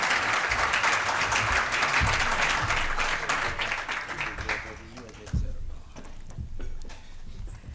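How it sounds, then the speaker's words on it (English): A banquet audience claps at a school's annual dinner, dense applause for about five seconds that then thins into scattered claps and a few thuds, with some voices underneath. "And another round of applause for Mr."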